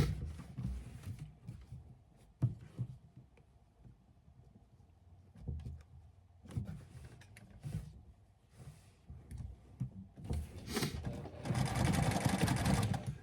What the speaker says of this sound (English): And then now sew the other part together.